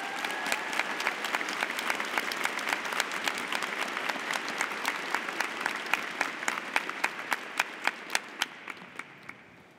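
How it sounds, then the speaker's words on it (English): A commencement audience at a university psychology department ceremony applauds continuously, dense clapping from many hands that holds steady, then slowly thins and fades toward the end. "Please join me in a round of applause to congratulate them all."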